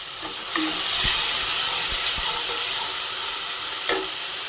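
Ginger and dried chili paste sizzles and spits in hot oil for a fish curry with eggplant and potato, a steady bright frying hiss with a few stirring knocks, close up and with no talking.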